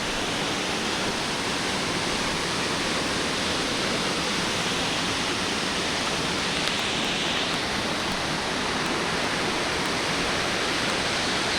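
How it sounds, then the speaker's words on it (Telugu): A steady, loud roar of rushing water from Jogini waterfall near Manali, close by and unbroken for the whole stretch, with no voices over it. "మనం వాటర్ ఫాల్స్ రీచ్ అయిపోవచ్చు."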